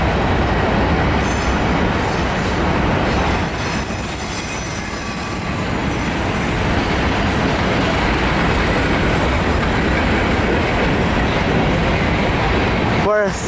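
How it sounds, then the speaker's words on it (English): A Union Pacific manifest freight train led by an ES44AC with an NS C40-9W rolls past up close in downtown El Paso, Texas, its rail cars giving a loud continuous rumble with wheel squeal and a brief high screech at the end. "No, just black rail cars."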